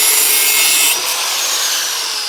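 Hand saw cutting through a metal exhaust hanger while fitting a large muffler to a 2015 Subaru Impreza, a loud, close, continuous rasping stroke that eases slightly partway through.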